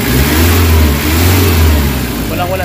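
A Nissan Vanette engine with a low-power, throttle-delay fault revs hard near 1,800 RPM, a loud, steady low roar held close up throughout, with no talk over it.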